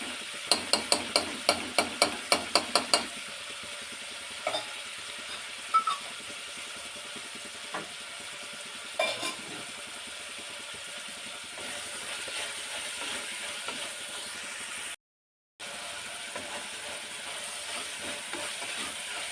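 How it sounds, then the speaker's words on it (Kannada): Onion and mint leaves frying in ghee as a tempering for paneer pulao, a steady close sizzle with quick rhythmic stirring clicks at the start and a few scattered scrapes after. "ಇದು ಒಗ್ಗರಣೆ ಇಷ್ಟು ಫ್ರೈ ಆದಮೇಲೆ ಹೆಚ್ಚಿಟ್ಕೊಂಡಿರೋ ಟೊಮೆಟೊ ಸೇರಿಸೋಣ"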